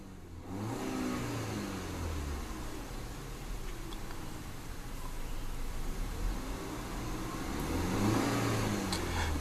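A car engine idles and then revs in neutral, building to a deep, throaty burble that swells and eases in waves, close and clear with no talk.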